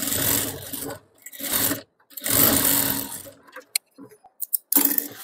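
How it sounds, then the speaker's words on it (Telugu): A sewing machine top stitches a blouse lining in several loud close bursts of rapid mechanical whirring, separated by pauses, followed by a few short clicks and brief spurts of stitching. "ఇప్పుడు టాప్ స్టిచ్చింగ్."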